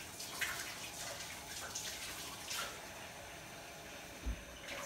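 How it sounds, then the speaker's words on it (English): Hands being washed under a running kitchen tap before cooking pork fried rice, a steady close rush of water with small splashes and a soft thump near the end. "let me wash my hands real quick"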